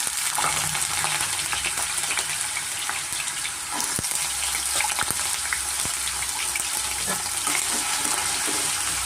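Potatoes fry in a pan to go crisp for vegetable avalakki, giving a loud, continuous broadband sizzle up close with a few sharper ticks and clinks. No one speaks.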